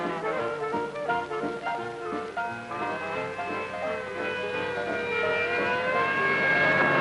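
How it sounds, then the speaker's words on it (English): An ambulance siren wails as it heads for a hospital, a rising and falling tone that grows louder and steadier as it nears, mixed with traffic or engine rumble. "An ambulance heading for General Hospital and not a minute to lose."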